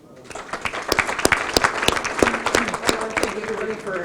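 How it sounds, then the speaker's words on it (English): Audience applause at a fire department installation-of-officers banquet, a dense patter of many hands clapping with sharp individual claps, steady and close for the whole stretch, with a voice briefly heard beneath it near the end. "Round of applause."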